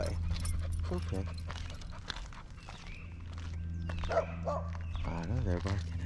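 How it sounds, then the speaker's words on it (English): Dogs bark and whimper nearby in short bursts while a person talks over them, with footsteps shuffling underneath. "I know they're barking at you."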